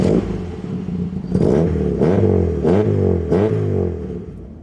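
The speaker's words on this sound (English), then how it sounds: "that does sound pretty fruity, and to be honest, that is because he does have an aftermarket exhaust on it." An Alfa Romeo 33 1.7 Green Cloverleaf with an aftermarket exhaust is driven, its engine loud and close, climbing in pitch through several quick rev rises and gear changes with a raspy edge.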